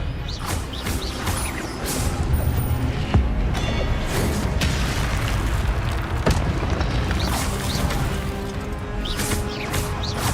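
Combat spell casting in Hogwarts Legacy, a dense run of booms, crashes and sharp magical impacts layered over constant battle noise, loud and busy across the whole stretch.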